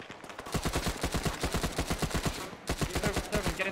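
Automatic gunfire in the military shooter ArmA 3, long rapid bursts of evenly spaced shots with a brief break partway through, loud and close, with no talking over it.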